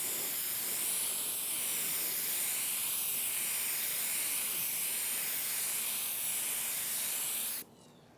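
Spray gun hissing primer onto a car's body filler area in one long, steady, loud burst that stops abruptly near the end, leaving quiet room tone.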